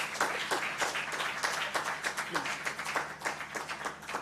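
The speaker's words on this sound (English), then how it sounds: "More round of applause, ladies and gentlemen." Audience applause at a human rights event on COVID-19 recovery in Uganda, dense and steady clapping from a crowd that fills the room for about four seconds without letting up.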